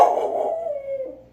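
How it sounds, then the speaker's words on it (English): A dog gives a single drawn-out howl that starts loud and slowly falls in pitch and fades over about a second and a half, close by with no talking. "She's a dog."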